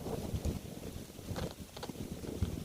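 Strong wind buffets an outdoor spot where a DJI Mini 3 drone is being flown, a faint, continuous rushing and gusty microphone rumble with no voices.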